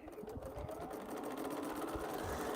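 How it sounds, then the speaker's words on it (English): A sewing machine backstitching along the outside edge of a quilt, a steady close mechanical whir with a rapid needle rhythm running continuously. "I'm going to backstitch because I'm going to try to remember that every time, because this is the outside edge of the quilt"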